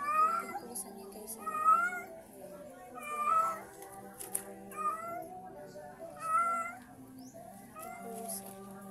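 A cat meows repeatedly at close range, drawn-out plaintive cries coming every second or two in a quiet room.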